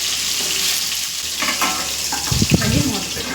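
Eggplant pieces fry in a pan for an eggplant biryani, a close crackling sizzle with stirring scrapes and a few louder clatters near the end as the pieces are turned.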